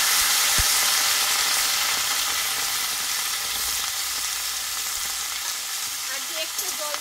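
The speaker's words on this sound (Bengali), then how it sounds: "এবার কেটে লবণ মাখা আমি চাল কুমড়োটা দিয়ে দেবো।" Salted ash gourd going into a pan of fried potatoes, a loud, dense sizzle and crackle of hot oil that starts strong and eases slightly over several seconds, with a brief knock near the start.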